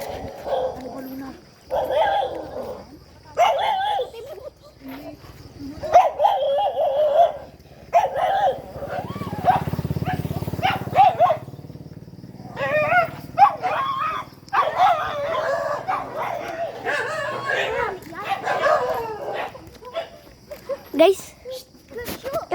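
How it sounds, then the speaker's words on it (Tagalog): A dog barks and yips intermittently outdoors on a roadside at night, mixed in among people talking throughout. "May aso na dyan oh."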